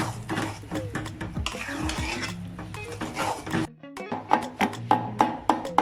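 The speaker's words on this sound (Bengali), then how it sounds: "ঘির ভিতরে ভুনে নিচ্ছে কাঁঠালের বিচি" Jackfruit seeds stirred and fried in ghee in a pan for halwa, with a spoon repeatedly scraping and clinking against the metal under a steady sizzle, the strokes growing sharper and more regular toward the end.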